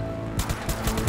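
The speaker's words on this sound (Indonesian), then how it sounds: "Tongnya gue tembak." Gunfire aimed at a barrel in GTA 5 during a zombie survival game mode, a rapid burst of loud shots firing in quick succession over steady background game noise.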